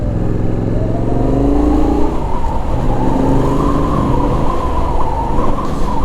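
A Caballero 700 motorcycle being ridden on the road, its engine droning loudly and steadily with wind rush, heard from the rider's position.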